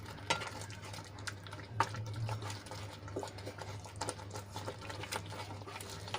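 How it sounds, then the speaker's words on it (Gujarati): Semolina being stirred into a raw grated potato mixture for a quick snack, giving soft wet scraping and patter with a few sharper knocks, close and moderately quiet over a steady low hum. "તો હવે એમાં આપણે સોજી એડ કરી લઈશું અને સરસ રીતે આપણે મિક્સ કરી લઈશું"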